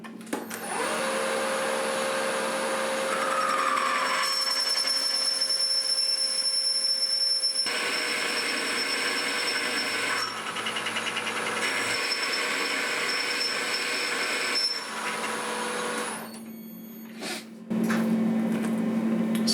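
A lathe drills a piece of 303 stainless steel at 600 RPM with hand feeding, giving a steady motor drone with high whining tones that shift and pause as the feed stops and restarts, ending with a brief squeal.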